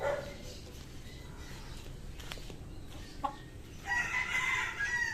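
Roosters crow and hens cluck in a busy flock of white backyard chickens, with a loud crow rising near the end over steady outdoor background noise.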